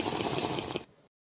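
Water gulped in Super Mario 64 makes a brief bright splashing, gurgling rush that ends abruptly, alone and close.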